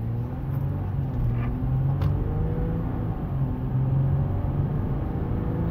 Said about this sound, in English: For a diesel, I just love how smooth this motor is